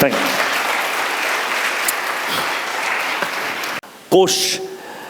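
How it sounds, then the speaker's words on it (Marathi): A church congregation breaks into sustained applause that fills most of the stretch, loud and even, then stops abruptly, followed by a brief burst of other sound near the end. "आपण टाळ्या वाजवा"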